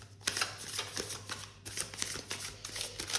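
Playing cards shuffled and drawn for a tarot-style card reading, with a run of soft riffling flutters and papery slaps at an uneven rhythm. The sounds are close and clear over a low steady hum, with no talking.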